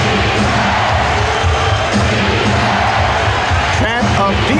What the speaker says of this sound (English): Chant of defense from the crowd